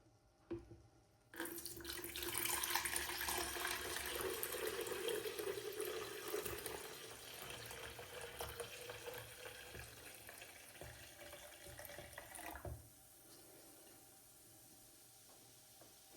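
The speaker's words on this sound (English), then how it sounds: "we're just gonna try to pour it in the jug without spilling it everywhere" Kombucha poured from a container into a jug makes a steady, close gurgling stream of liquid that runs for about ten seconds and then stops, leaving faint room noise.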